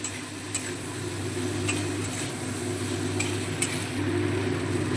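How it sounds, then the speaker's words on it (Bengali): Vegetables for a winter vegetable dal being stirred with ginger and cumin powder in a pan, a soft steady sizzle with occasional light clicks of the spoon, close up and without talk. "আদা এবং জিরে গুঁড়োটা খুব ভালোভাবে সমস্ত সবজির সঙ্গে একটু নেড়ে চেড়ে মিশিয়ে নিচ্ছি"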